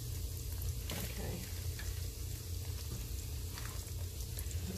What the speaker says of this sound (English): So we're gonna let it fry.